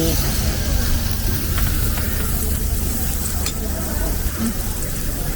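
Steady close-up sizzling of pork frying on a tabletop grill in cold weather, with light scraping and faint chatter mixed underneath.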